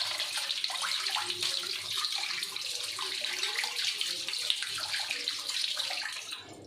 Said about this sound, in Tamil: இதை ஃபஸ்ட்டு நான் ஒரு தடவை சும்மா கழுவிக்கிறேன்